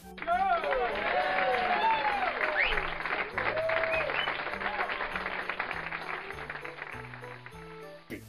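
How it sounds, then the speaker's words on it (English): An audience applauds and cheers loudly at a Nintendo game presentation, a dense wash of clapping with excited crowd voices that slowly tapers off over several seconds while music plays underneath. "Truly excited to give one more round of applause for Bayonetta coming to Smash Brothers."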